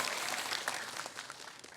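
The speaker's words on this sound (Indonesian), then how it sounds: "Lebih semangat lagi dong masyarakat Desa Demule, tepuk tangannya" Village audience in Desa Demulih, Bangli, Bali, clapping at a quiz event, a dense steady wash of applause that fades slightly toward the end.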